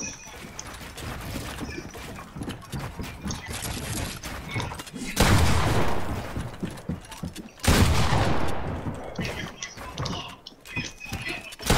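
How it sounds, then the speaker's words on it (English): Gunfire in Fortnite: Battle Royale, with bursts of rapid shooting and mechanical clicks under game sounds, two louder volleys standing out midway through. "So this is the guy is shooting him."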